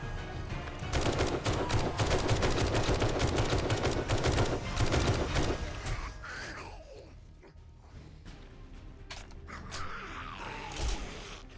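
Dense automatic gunfire rattles nonstop against zombies in the survival game 7 Days to Die, close and loud for several seconds, then gives way to creaking mechanical reload clicks and scattered single shots.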